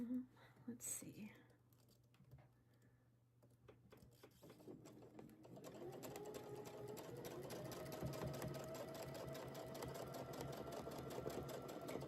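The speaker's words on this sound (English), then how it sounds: "Just getting this flower stitched up." A sewing machine stitches a flower design during a quilting class. It is quiet at first, then runs as a steady continuous whir from about halfway through to the end, with faint talk near the start.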